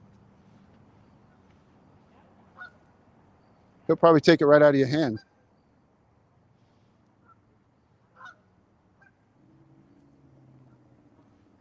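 A Canada goose at a park pond where geese and ducks are being fed gives a burst of loud, close honks lasting about a second, amid otherwise quiet surroundings with someone speaking briefly.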